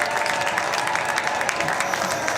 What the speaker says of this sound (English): You may hear some applause in the background